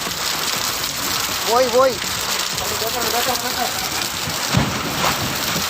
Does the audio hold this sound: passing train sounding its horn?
no